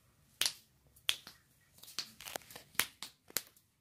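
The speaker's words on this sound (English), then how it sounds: "You can snap your fingers?" Bare fingers snapping seven or so times at an uneven pace, each snap a sharp, close, dry crack with quiet gaps between, at a soft overall level and with no talking.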